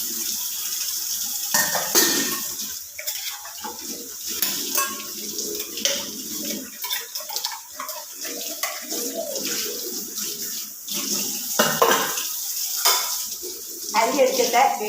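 Scrubbed pots and dishes being rinsed by hand in a village kitchen: steady running and splashing water with scattered metallic clatter and scraping of utensils throughout, close by.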